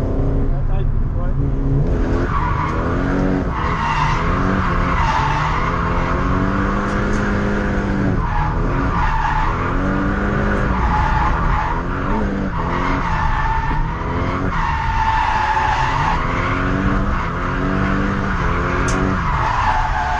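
A Nissan S15 drifts on a dry drift circuit, with a loud, sustained engine roar rising and falling and long squealing tire skids, close and continuous as people talk over it.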